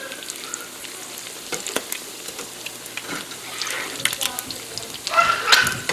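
Salmon cakes fry in a pan with a soft, crackly sizzle and scattered pops. The sizzle grows a little louder toward the end.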